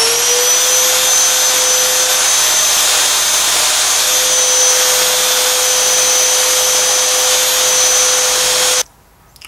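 A power sander sands a wooden stick, running loudly and steadily with a constant high whine and broad hiss, then cuts off abruptly near the end.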